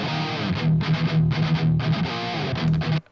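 Metal electric guitar miked on a Rectifier cabinet with an SM57 and a condenser, giving a short burst of distorted, palm-muted chugging riffs in tight rhythmic stabs, moderately loud and cutting off abruptly.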